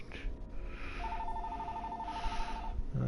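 A telephone ringing during Assassin's Creed Syndicate gameplay, a steady electronic ring tone lasting under two seconds amid a continuous low game background, moderately loud with no talking.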